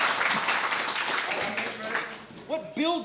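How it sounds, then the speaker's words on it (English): Audience at a JVM meetup applauds speaker Josh Long: a burst of dense crowd clapping that thins out as voices and chatter take over. "give applause to Josh Long."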